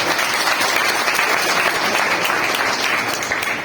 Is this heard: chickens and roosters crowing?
no